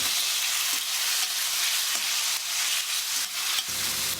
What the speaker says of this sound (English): 咁啊而家咧你就炒嗰個冬菇